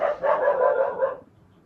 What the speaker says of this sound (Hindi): कुत्ते ने भी परेशान करके रखा हुआ है